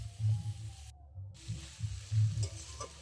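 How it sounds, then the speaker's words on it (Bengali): A paste of ground chilli and cumin with coriander and turmeric powder fries in a pan. A steady low sizzle carries soft stirring scrapes, with no talking. "সমস্ত মশলা দিয়ে খুব ভালো করে কষিয়ে নেব"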